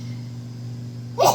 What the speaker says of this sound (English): I'm tired of sneezing.